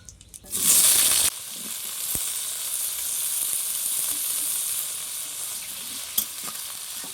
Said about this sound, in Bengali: আলুটাকে ভেজে নেব।